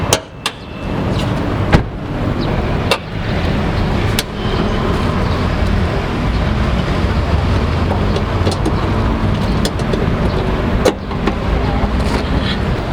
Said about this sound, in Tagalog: So now this is the engine of the HR-V V turbo variant.